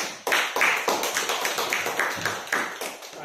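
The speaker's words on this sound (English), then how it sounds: "Can we have a round of applause?" A small group claps briefly at a speakers forum meeting, a few sharp, uneven claps close by that fade after about three seconds.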